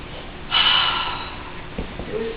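A narrator imitates a wolf sniffing, giving one loud drawn-out nasal sniff followed by a few short quieter snorts and breaths, close to the microphone.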